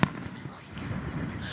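Fireworks crackle and pop in a loose, continuous spatter with one sharper burst at the start, moderately loud and fairly distant, with no voices over them.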